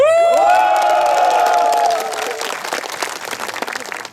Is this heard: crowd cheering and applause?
yes